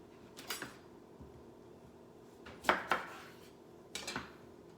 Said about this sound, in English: Now we want to slice up this lime.